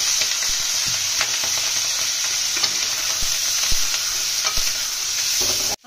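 Soaked rice fries in ghee for yakhni biryani, giving a loud, steady sizzle broken by repeated scraping stirs of a spoon against the pan. The sound stops abruptly at the end.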